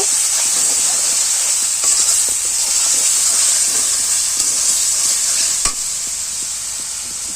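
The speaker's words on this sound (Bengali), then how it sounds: "মশলাগুলোকে ভালো করে কষিয়ে নেব।" Spices with salt and sugar are stir-fried in a pan for a kabuli chickpea ghugni, giving a steady sizzling hiss with scraping spatula strokes throughout. A sharper scrape lands near the end, with no talking.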